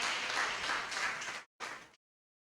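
A church congregation applauds the Lord, a loud burst of many hands clapping that cuts off abruptly, then a brief second flurry before silence.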